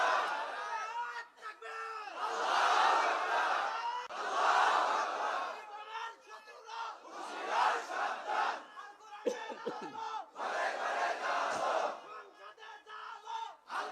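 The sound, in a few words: crowd shouting takbir in response at a sermon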